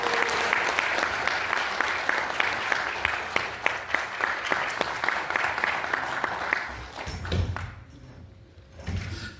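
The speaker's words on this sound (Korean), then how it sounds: "큰 박수로 맞이해 주시기 바랍니다" An audience at a lecture claps steadily for several seconds, a dense patter of hands that thins and fades out toward the end.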